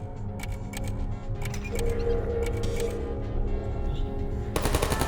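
Turrets in the video game Portal firing in a large room: rapid machine-gun-style bursts crackle over a dense electronic hum and game sounds, ending in a sharper, louder volley.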